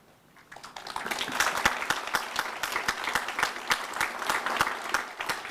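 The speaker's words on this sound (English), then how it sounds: "Stop clapping" Audience applause at a university graduation ceremony: a dense, steady wash of many hands clapping that swells in over the first second and holds loud without talk.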